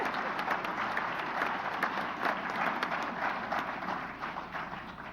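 An audience at a World War II conference applauds, steady dense clapping that stays moderately loud throughout before easing slightly at the end.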